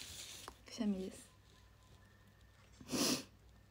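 A young woman's sneeze, a sharp burst near three seconds, preceded by a brief voiced sound and followed by quiet room tone with no other talk.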